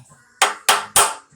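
Three sharp metallic hammer taps ring out on a 1968 Camaro control arm, evenly spaced and close, each with a brief decaying ring.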